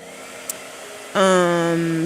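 A blow dryer switches on after a brief click and runs loudly with a steady whine and strong airflow hum, close by and continuing without talk over it.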